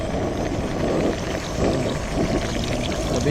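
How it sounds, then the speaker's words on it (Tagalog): Water pours steadily into a cooking pot, a continuous splashing gush with no talking over it. "Tapos lagyan na po natin ng tubig."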